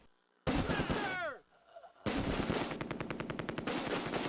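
Automatic machine gun fire in the World War II strategy game Close Combat: A Bridge Too Far, a sharp loud burst with descending whistles, a short lull, then rapid continuous rattling fire.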